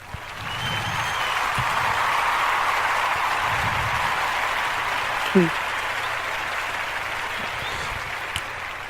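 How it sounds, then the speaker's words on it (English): A canned applause sound effect played during a wrestling-tournament commentary stream, a steady wash of clapping with a faint voice briefly underneath. "I got an applause sound effect"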